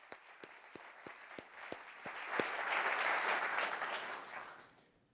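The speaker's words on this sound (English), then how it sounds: "can I get another quick round of applause for all the engineers, PMs, designers that built this?" Audience at a fintech product conference breaks into a short round of applause, clapping swelling to a dense, moderately loud peak midway before tapering off, with a few sharp individual claps near the start.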